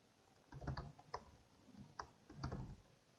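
Typing on a computer keyboard to enter a move in a Python rock-paper-scissors game, quiet near keystrokes arriving in short bursts of clicks with pauses between, no talking.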